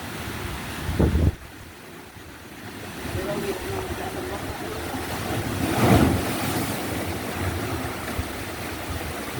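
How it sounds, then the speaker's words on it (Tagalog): Ocean surf rolls and washes steadily against a breakwater during a typhoon in the Philippines, with wind buffeting the microphone, and a wave swells louder midway; faint voices sit under the noise. "Ayan na, ang alon oh."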